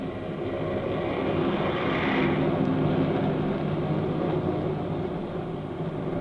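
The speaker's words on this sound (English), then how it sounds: "Far overhead, a fleet of airplanes soars in battle formation" A fleet of airplanes flies overhead in battle formation as a radio drama effect, a broad, steady engine drone that swells slightly midway and stays loud and even throughout.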